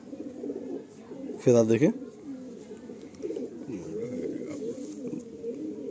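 Madrasi pigeons cooing in a loft while rain falls, low soft murmuring coos running throughout, with someone talking close over them.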